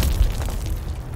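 Grenade blast in Call of Duty Modern Warfare III, a loud, sustained low boom with a brief punch near the start, rumbling steadily for about a second.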